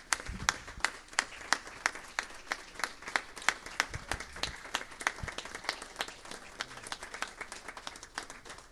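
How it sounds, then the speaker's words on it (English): Church congregation applauding mothers during a Sunday evening service, a steady, lively round of hand clapping with crisp individual claps standing out over a continuous patter, fairly close and without talk. "I think that all of our moms need a big old hand clap right now."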